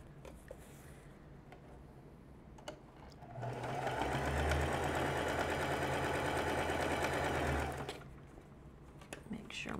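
A small sewing machine stitches a quilt block seam in a fast, even mechanical whir that starts partway through, runs for about four seconds and stops, with quiet room sound on either side.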